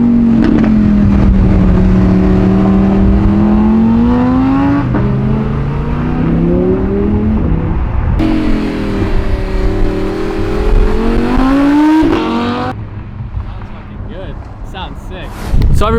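Audi R8 supercar engine revving loudly on a city street, with rising and falling revs sustained for most of the stretch, then fading toward the end, while people talk over it.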